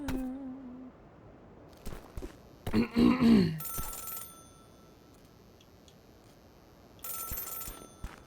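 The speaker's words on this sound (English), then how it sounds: "Phone ringing on the mountain." An electronic telephone rings in the video game Celeste in two separate bursts with quiet between them. A grunting voice-like game sound comes between the rings, and there is no clear talk.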